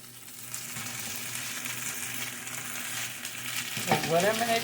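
Homemade corned beef hash fries in a pan with a steady, close sizzle and crackle that swells louder near the end as the hash is stirred or pressed.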